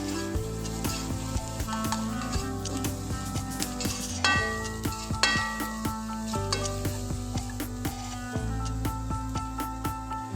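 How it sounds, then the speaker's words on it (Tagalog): Onions sautéing in a pan for biryani, a steady close sizzle punctuated by frequent sharp clicks and taps of a utensil against the pan, continuing without pause. "Mag-isa na tayo ng sibuyas"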